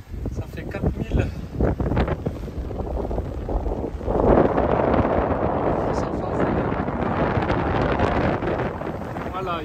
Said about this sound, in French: 17-18 nœuds de vent